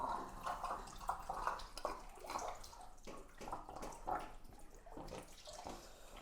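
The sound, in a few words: fish tank siphon draining water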